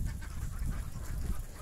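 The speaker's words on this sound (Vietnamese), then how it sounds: "nhiều lắm, vịt ảnh quá trời nhiều." Large flock of ducks at a traditional rural duck farm, a dense continuous chorus of quacking and squawking close by, steady and loud throughout without pause.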